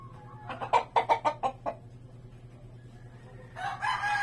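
A Pumpkin Hatch Henny gamefowl rooster gives a quick run of rhythmic, clucking crow-like calls, fairly close and moderately loud, followed by a softer rustle.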